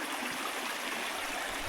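A small river burbles and rushes steadily along a mountain trail, a constant close wash of flowing water with no voices.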